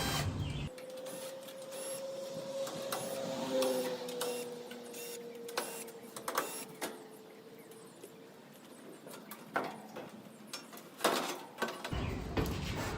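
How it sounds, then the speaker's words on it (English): A power screwdriver whines in sustained bursts while screws come out of an air conditioner condenser's metal cover, mixed with small metallic clicks and taps, fairly quiet and close with no talking. "take the screws off that are required to get this cover off"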